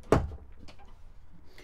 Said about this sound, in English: then it has this pocket door here that goes into the bathroom